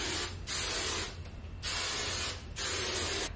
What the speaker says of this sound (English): Now I'm gonna hairspray them.